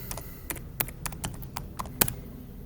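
Computer keyboard keys tapped in an irregular run of close, crisp clicks, about a dozen strokes spaced unevenly with short pauses, over a faint hum.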